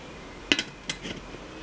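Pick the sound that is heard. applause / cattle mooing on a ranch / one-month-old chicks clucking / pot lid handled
pot lid handled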